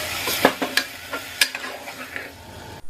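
Green peas and chopped peeled potatoes are stirred into a sizzling masala in a pan, giving soft scraping stirs and a few sharp clatters over a low sizzle.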